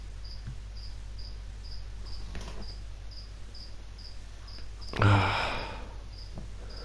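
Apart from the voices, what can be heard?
crickets chirping loudly under the bed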